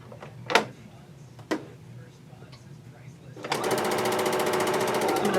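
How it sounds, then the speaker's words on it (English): A Bernina sewing machine runs hands-free off its green start button, starting after two sharp clicks and then stitching steadily with a fast, even mechanical rhythm, close and loud to the end. "you can actually just use the green button to sew with"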